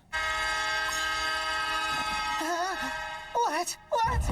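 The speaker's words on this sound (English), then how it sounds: "Train is moving." Anime train from RWBY Ice Queendom pulling away with a sustained horn-like tone that wavers and bends, set against a low rumble and soft rail noise; voices cut in near the end.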